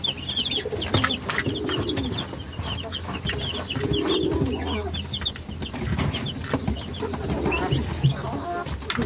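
Pigeons coo steadily among chickens and other fowl in a busy farmyard coop, with clucking, fluttering and soft background noise throughout.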